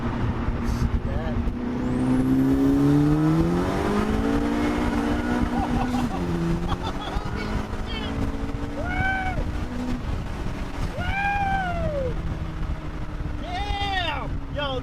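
A turbocharged car engine revs hard under acceleration. Its pitch climbs and drops in loud, close sweeps as it pulls through the gears, with brief higher whines breaking in over the roar.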